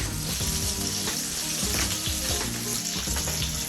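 Duck breast skin sizzles and crackles steadily in a hot pan while being basted with lavender aromatics, a close, continuous frying hiss with soft splashes of fat throughout.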